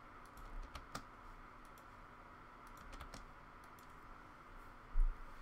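Password keys typed on a computer keyboard: a faint, sparse run of light clicks with a few sharper taps and one louder thump near the end, no talking.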